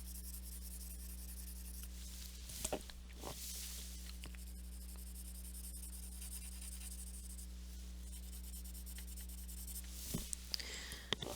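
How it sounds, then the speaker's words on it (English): Pencil shading across paper, as when toning a two-point perspective building drawing, a steady soft graphite rub running throughout at close range, with a few faint taps and scrapes and a constant low hum underneath. "you do that by just lessening your pressure that you're putting on your pencil"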